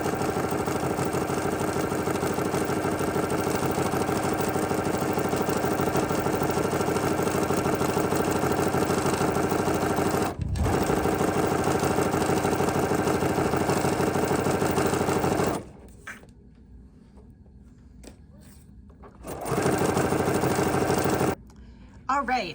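A Bernina sewing machine with a double cording foot stitches over bare, unwrapped rope cording, a steady motor whir and rapid needle clatter that runs continuously, pauses twice, briefly restarts, with a voice speaking at times.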